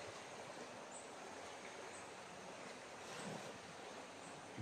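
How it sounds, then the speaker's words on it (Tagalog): Floodwater rushes in a swollen river, a steady, broad roar that holds even and continuous throughout with no voices. "Humina yung tubig para makatawid tayo."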